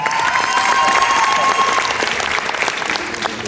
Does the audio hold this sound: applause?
yes